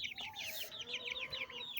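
Chickens clucking in a repeated run of short, rising calls, fairly close and steady throughout with no talk.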